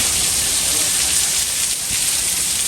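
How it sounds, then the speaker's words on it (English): Steady rain falls in a park, a loud, dense hiss of drops hitting surfaces that continues without break and covers the whole stretch, with no voices. "It's raining."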